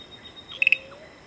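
Frogs call at night in the Periyar forest, a brief cluster of three sharp, high chirps rising out of a faint nocturnal background, with no voices.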